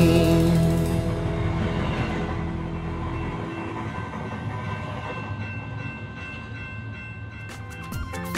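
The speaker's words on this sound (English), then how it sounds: "Here comes the train." A steam train rumbles past with a droning, tonal hum, loud at first and gradually easing off as it moves along.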